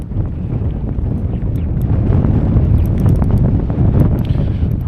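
Strong wind buffeting the microphone on an exposed windy point during bass fishing, a loud, constant rumbling roar with gusty low-end swells and no talking.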